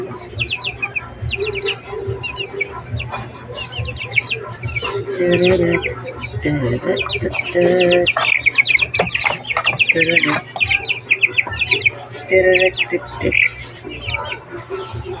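Several chickens cluck and squawk close by in a busy, overlapping chorus, with occasional voices and a low steady hum in the background.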